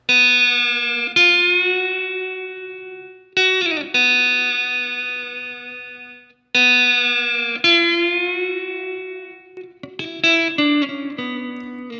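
An electric guitar rings out slow, dark, eerie notes and chords soaked in reverb. Each sustained tone decays gradually before the next is struck, and a brief cluster of picked notes comes near the end.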